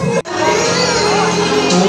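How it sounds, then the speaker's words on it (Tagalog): Crowd at a 70th birthday celebration cheering and shouting, a loud dense roar of voices that briefly cuts out near the start, then continues. "Palapakan sigawan."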